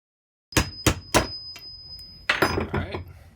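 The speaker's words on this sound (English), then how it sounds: "get something that you can hammer down on this where you're not going to mess up the pin that's in the middle" A hammer strikes down on a clutch release bearing pin with three sharp metallic blows, each followed by a lingering ring, then a brief pause and a quicker flurry of lighter taps.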